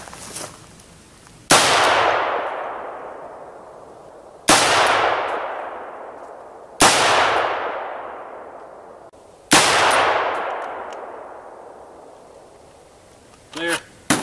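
Four loud, close .308 Winchester rifle shots from a DPMS Panther Arms AR-10, each a sharp crack trailing into a long decaying echo, spaced a few seconds apart, with a brief metallic clink near the end.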